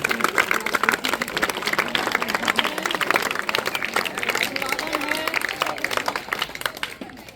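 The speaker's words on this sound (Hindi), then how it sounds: "जोरदार ताली।" Loud applause at a school award ceremony honoring top-scoring students: a sustained, dense clatter of many hands clapping from a crowd, steady throughout with some murmuring underneath.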